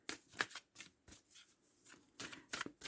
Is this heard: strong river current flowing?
no